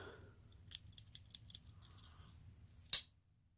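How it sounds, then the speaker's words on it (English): Scissors on an Ozark Trail Swiss-style multi-tool snipping open and shut, a run of small crisp clicks close up, then one sharper metallic snap near the end, over quiet room noise. "scissors."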